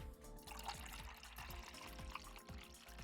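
Blue Gatorade being poured into a shot of Jager, a steady gurgling trickle of liquid with small rhythmic glugs, close and moderately loud over a faint background hum.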